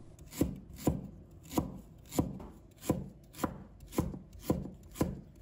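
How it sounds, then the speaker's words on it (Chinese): A knife slices through fresh ginger on a board in about nine crisp, evenly spaced strokes, each a sharp close thunk, with no talking. "再准备一块生姜，把它切成片。"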